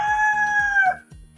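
A purebred Vlašák rooster, an Italian breed kept in a new backyard coop, crows once loudly and close by, a long drawn-out call that trails off near the end, followed by a few soft low noises.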